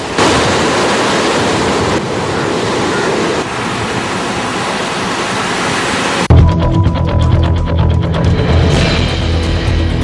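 Rough surf and strong wind roar steadily on the Puttalam coast for about six seconds, then cut abruptly to a quieter scene with a low steady hum.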